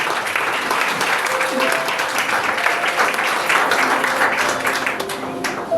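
A church congregation applauds loudly and steadily for several seconds in a dense, sustained wash of clapping, with a few voices faintly audible in the mix.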